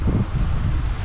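Wind buffeting an open microphone on a ride near Tagaytay, a brief, loud, low rushing gust with no voices.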